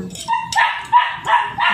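A young puppy yips and barks in quick high-pitched bursts, loud and close, several sharp calls in a row with brief whimpering tones between.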